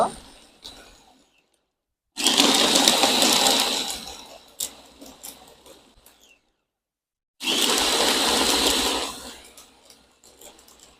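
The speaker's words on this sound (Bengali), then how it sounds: "এবার ভালোভাবে ব্লেন্ড করে নিব" An electric blender whirs loudly in two bursts of a few seconds each while blending a bael (wood apple) fruit drink, separated by quiet gaps with faint handling sounds.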